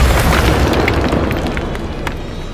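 In the video game Hogwarts Legacy, the Expulso spell sets off a loud, close explosion. A heavy boom sits at the start and fades into a rumbling, crackling tail over about two seconds.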